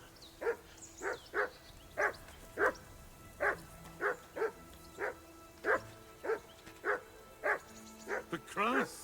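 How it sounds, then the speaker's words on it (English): Dog barking in the video game Kingdom Come: Deliverance 2, a steady series of about a dozen evenly spaced mid-distance barks with a faint voice beneath. "Call off that damn dog"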